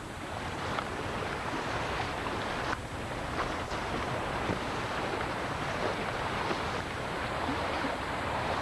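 Flood runoff from the Pennsylvania Turnpike pours through a residential property into a tributary of the Wissahickon, a steady broadband rush of flowing water with wind buffeting the microphone throughout.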